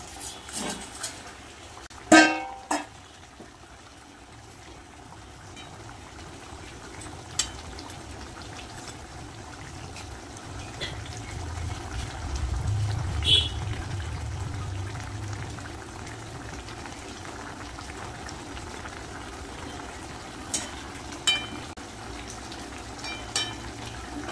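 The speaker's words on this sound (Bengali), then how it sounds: "ঝোল কিন্তু ফুটে গেছে, ভেজে রাখা মাছগুলো দিয়ে দেবো।" Fried fish slides into a pot of boiling curry, giving a low, steady bubbling with a few sharp clinks and splashes near the start and scattered knocks later, all fairly quiet.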